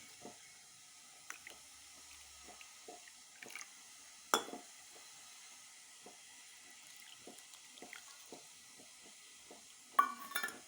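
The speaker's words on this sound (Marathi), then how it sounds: "आपल्याला त्यात पाणी घालून घ्यायचे आहे" Faint water sounds with soft, irregular drips and splashes as water is poured into semolina batter, at a quiet, close range, no voices.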